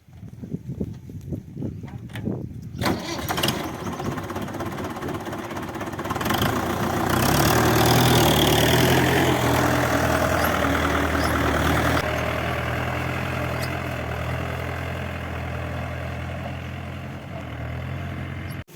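A wheat cleaning and filtering machine runs continuously with a loud, low mechanical drone and rattle, swelling louder in the middle and holding steady to the end.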